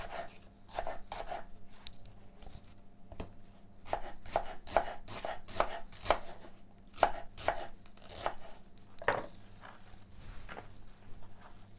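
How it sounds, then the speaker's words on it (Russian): Repeated knife chops through onion on a cutting board, irregular but steady, close up, sharp taps with brief pauses between bursts. "Просто крупно нарезаем вот так вот лук, друзья."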